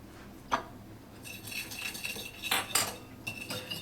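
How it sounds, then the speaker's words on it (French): A utensil clinks and rattles against a bowl, beating egg yolk lightly in short bursts after a single sharp tap. The strokes sit close and fairly loud, with no voices. "on va préparer une petite marinade avec le jaune d'œuf qu'on va battre légèrement"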